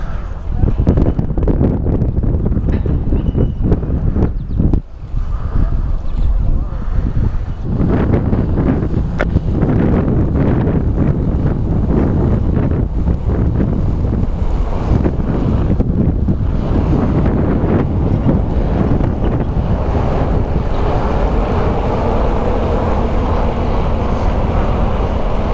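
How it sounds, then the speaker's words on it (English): The Chi-Cheemaun ferry arrives to dock on the Great Lakes amid strong wind buffeting the microphone, with a low engine rumble and water wash beneath the gusts. "here comes the Chi-Cheemaun Ferry, getting ready to dock"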